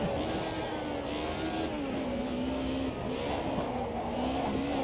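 A historic touring race car in a sim racing game, its engine droning at a steady high pitch with slight rises and falls, close and continuous with tire noise beneath.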